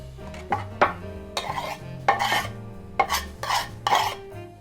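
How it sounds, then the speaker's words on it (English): Herbs such as parsley, rosemary and thyme hit melted butter in a pan, with a series of clattering, scraping pan and utensil knocks in uneven bursts and a faint sizzle between them. "the butter has melted nicely, so I'm just gonna throw in the herbs"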